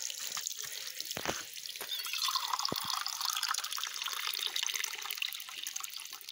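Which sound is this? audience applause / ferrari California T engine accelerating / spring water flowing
spring water flowing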